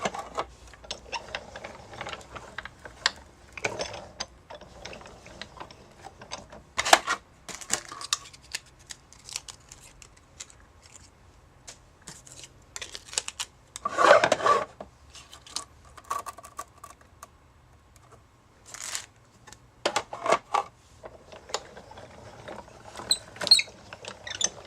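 A die-cutting machine runs glitter-coated Doodlebug cardstock through with dies, producing intermittent close mechanical clicks, rustles and cranking bursts spread over the clip, with one louder grinding pass midway and no talking.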